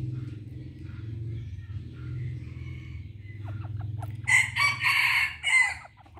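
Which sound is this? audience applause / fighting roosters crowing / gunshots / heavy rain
fighting roosters crowing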